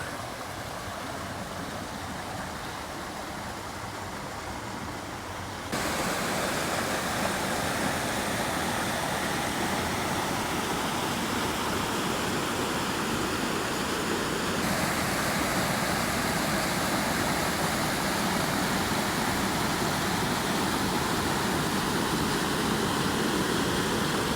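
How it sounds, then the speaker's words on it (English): Pine Meadow Brook flows in a steady, loud rush of water. The wash holds constant throughout and grows fuller after the first few seconds, with no voices. "This is Pine Meadow Brook."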